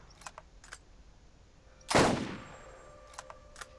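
A single loud gunshot rings out in Borderlands, a sharp blast with a short decaying tail, surrounded by faint clicking and small mechanical ticks before and after.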